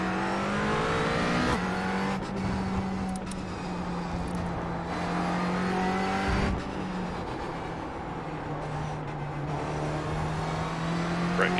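A GT4 race car engine in the iRacing game, on the Iowa Speedway roval, drones and revs steadily with several abrupt shifts in pitch as it drops gears, and brief clicks break through at intervals.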